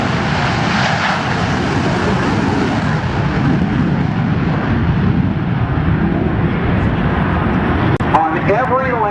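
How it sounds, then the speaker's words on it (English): An F/A-18C Hornet jet at an air show in Peoria, Illinois, throttles up for a touch and go. A loud, sustained, broad jet roar fills the whole stretch, with a voice briefly heard near the end. "Throttle goes forward and up he goes, a quick touch and go."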